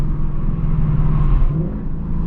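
A 2024 Mustang GT with an H-pipe and active exhaust rumbles loudly and steadily up close, a deep continuous engine drone with a slight swell partway through and no voices.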